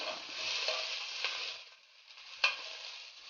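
Garlic sautéing in hot oil, a bright steady sizzle with a few sharp crackles and stirring scrapes, close and alone.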